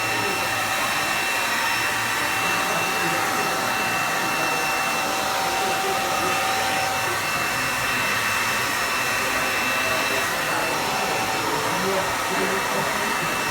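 A hair dryer without a nozzle blows with a continuous, loud, even roar that holds steady throughout, with no pauses and no talk.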